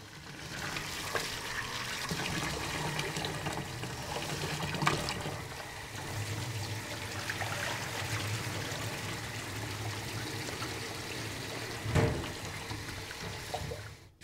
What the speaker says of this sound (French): On nettoie le riz comme ceci. Il faut le faire 5 ou 6 fois.